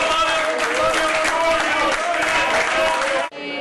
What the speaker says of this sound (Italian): nella sede del Carroccio scatta l'applauso